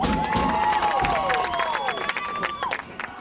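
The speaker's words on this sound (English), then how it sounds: "The ER cheering section is very vocal." Vocal school cheering section of fans at a high school game, a dense roar of crowd voices and shouts with whistled and sung tones rising over it, loud and continuous throughout.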